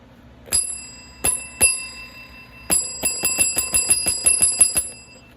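A Staples call bell, the tap-top desk kind, rings in bright metallic dings: three spaced single strikes, then a pause and a quick run of about nine rapid rings, close and loud with no talking.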